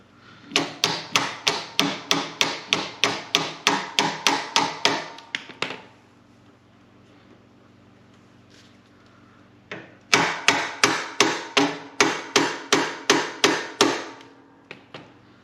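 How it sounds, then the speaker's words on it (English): Rapid runs of sharp taps from a rubber mallet striking the metal shift lever of a Harley-Davidson Dyna Wide Glide, a quick steady burst for several seconds, a pause, then another run of taps. "If you are going to tap on that, I do definitely recommend a rubber hammer."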